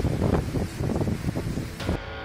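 Strong howling wind gusts roaring in a storm that tore off roofs and uprooted trees, a loud broadband rush that swells and surges in waves before dropping off abruptly near the end, with no voices.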